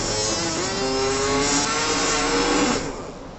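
A small electric motor hooked up to a multimeter for current measurement runs with a steady whine and rising hum, close and loud, then spins down near the end.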